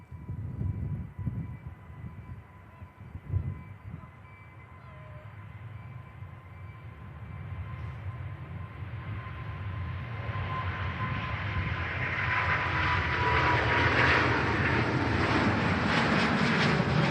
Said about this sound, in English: Qatar A350, the big Q, heading back out to Doha in the Middle East.